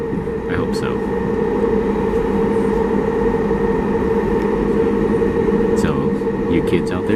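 The interior of a moving train in Japan carries a steady, subdued rumble with a constant hum. A few faint announcement-like chimes and sweeps are heard near the start and end, and no talk is heard.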